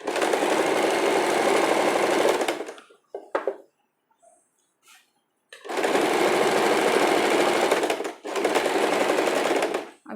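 A sewing machine stitching a double seam on a cami top, loud and close, running in about three bursts separated by a quiet pause.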